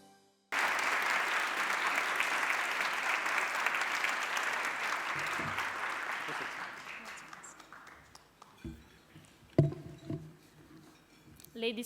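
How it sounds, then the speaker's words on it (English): Audience at an award gala dinner bursts into loud, sustained applause that fades over several seconds, giving way to scattered claps, shuffling and faint voices. "I kindly invite you to give her a big round of applause."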